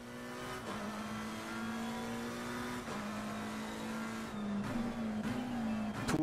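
A race car in the sim racing game Assetto Corsa Competizione drones steadily at high revs, with pitch drops at gear changes and a louder, rougher stretch near the end. The engine is close and continuous, with no talk.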